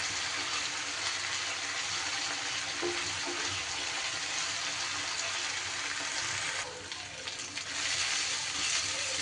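Ginger, garlic and green chilli paste sizzling in a pan with a steady, hissing fry, close and continuous, while it is stirred, with no voices.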